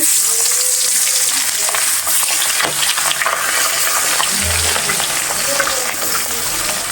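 Pieces of sea punti ilish fish fry in hot oil, a dense steady sizzle and crackle filling the whole stretch at close range with no talk over it.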